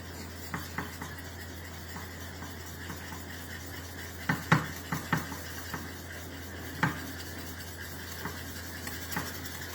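A spoon stirs a thickening mixture in a cooking pan, with soft scraping and a few light clinks against the metal, moderately close and quiet throughout, no voices.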